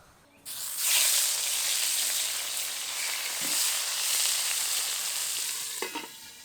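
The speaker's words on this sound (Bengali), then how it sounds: "এবার শিঙি মাছগুলো দিয়ে ভেজে নেব।" Singhi fish frying in hot oil in a home kitchen, a loud steady sizzle that bursts in abruptly and holds throughout, with a few brief spits and crackles near the end.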